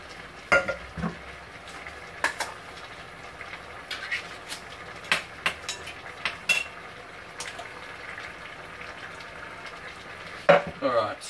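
Canned diced tomatoes being stirred into bolognaise in a pan, a low simmering hiss under repeated sharp clinks and scrapes of a utensil against the pan at irregular intervals.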